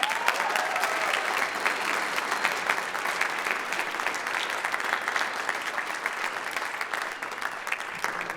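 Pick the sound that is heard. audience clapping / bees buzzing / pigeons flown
audience clapping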